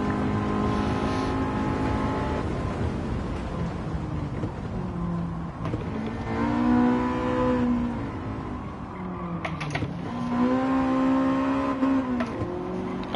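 A McLaren MP4-12C GT3 race car engine in Gran Turismo 7 drones and revs, rising through gears with repeated upshift dips, loud and close, with no voices.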